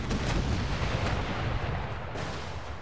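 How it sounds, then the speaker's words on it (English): Howitzer artillery fire from 12-pounder guns in the game Darthmod Empires, a dense, loud rumbling barrage of booms and blasts that tapers slightly toward the end. "They're using howitzers back at me. 12 pounders."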